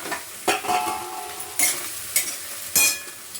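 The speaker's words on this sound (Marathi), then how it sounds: "पण मग थोडीशी तेलात परतून घेते जरा." Coriander sautéed in oil in a pan, a close sizzle broken by several sharp scraping and clinking strokes of a spoon against the pan, with no talking.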